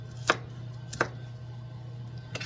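A knife chops through a very soft onion on a cutting board, three separate crisp thuds spaced well apart over a low steady hum, close and fairly quiet.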